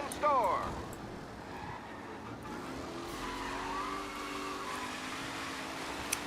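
Tires skid and slide as a car loses grip in the video game Mafia: Definitive Edition during a race, a sustained screech under steady engine drone, with someone talking over it.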